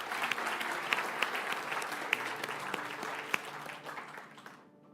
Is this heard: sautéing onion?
no